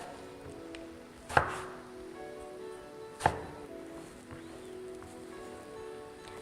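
Fresh eggplant being chopped with a knife, two sharp, well-spaced cuts against a board over a soft, quiet rustling background.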